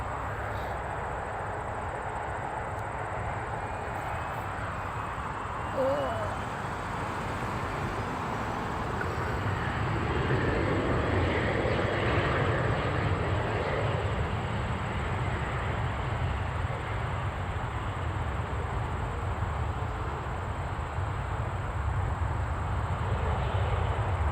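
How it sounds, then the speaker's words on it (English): A Bombardier Challenger 3500 business jet at Toronto airport gives off a distant, low engine rumble that builds gradually after the first few seconds and holds steady as a broad roar, with no voices. "Here we have an air share going to Detroit. Bombardier Challenger 3500."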